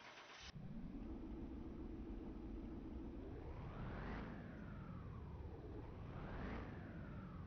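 Sports car engine on a dyno test in Car Mechanic Simulator 2021 starts abruptly, idles steadily, then revs up and falls back twice in rising-and-falling sweeps, loud and close with no talk.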